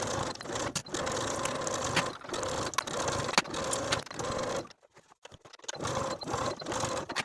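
A sewing machine runs in steady stitching bursts along the outer edges of a jacket collar, close and fairly loud, with one brief pause before it starts up again.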